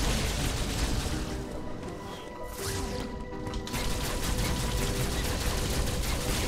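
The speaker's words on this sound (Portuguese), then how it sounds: "Disparo!" Gunfire in the video game Metroid Dread, a dense, continuous burst of rapid shots and crashing impacts filling the whole stretch, loud and close, easing briefly midway before resuming at full intensity.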